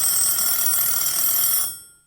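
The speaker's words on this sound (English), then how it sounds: "Then the phone rang." A telephone bell rings in a single sustained bright trill for about a second and a half, loud and close, then decays quickly into silence.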